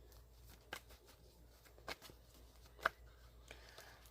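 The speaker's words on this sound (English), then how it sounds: "Let's shuffle and cut the cards real quick here." A tarot deck is shuffled and cut, heard as faint soft card rustling punctuated by a few sharp taps and slaps spaced about a second apart.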